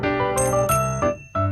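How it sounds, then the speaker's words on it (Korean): A doorbell chiming ding-dong twice as a story sound effect, with bright ringing tones repeated in two pairs, clear and close and without any voices. "그때 띵동 띵동 초인종 소리가 났어요"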